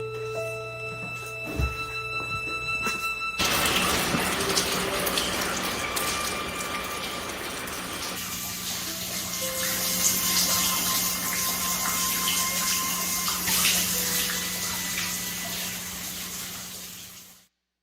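Water pours and floods inside a building from a seemingly endless source, a steady, loud rushing roar with some mechanical rattling early on, continuing unbroken before cutting off abruptly.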